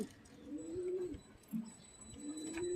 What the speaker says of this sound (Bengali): পায়রা নিয়ে গিয়ে একদম গ্যারেন্টি পায়রা নিয়ে যাবেন